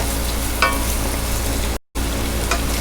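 Bacon and vegetables sizzling in a frying pan while being stirred, a steady loud crackling hiss with a brief scrape or two and a momentary cutout near the end.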